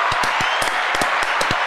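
Short burst of hand clapping from a few people, sharp irregular claps over about two seconds against a steady background hiss, close and fairly loud.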